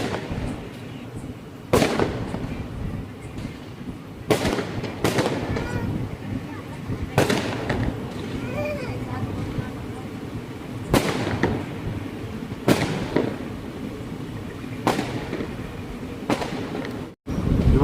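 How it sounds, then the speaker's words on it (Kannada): Firecrackers burst in Ballari, several sharp separate bangs at irregular intervals over steady background rumble and faint voices, each crack loud and echoing briefly. "ಪಟಾಕಿ ಸೌಂಡ್ ಕೇಳಿಸ್ತಿದೆ ಅನ್ಸ್ಕೊಂತ"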